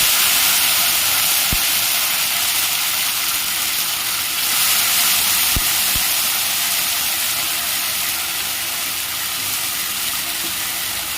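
Pieces of chicken for a pepper chicken fry land in a frying pan with softened onions and set off a loud, steady hiss of sizzling, with a couple of sharp clicks near the pan.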